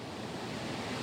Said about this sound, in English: right now it is still raining a little bit